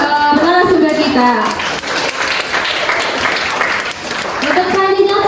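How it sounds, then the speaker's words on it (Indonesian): A burst of applause for the speaker at an elementary-curriculum education seminar rises between stretches of talking, a crowd clapping for a few seconds before a voice resumes. "berikan tepuk tangan untuk narasumber kita"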